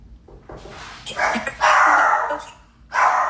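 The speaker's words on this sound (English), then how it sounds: "Oh my God, my dogs. Be quiet." Several dogs bark loudly in a home during a video call, sharp repeated bursts rising and falling over a few seconds with short gaps between them.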